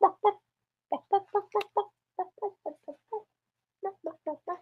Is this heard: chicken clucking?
yes